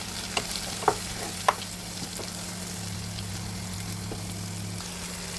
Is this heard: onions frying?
yes